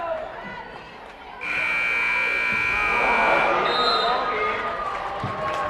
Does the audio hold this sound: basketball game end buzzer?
yes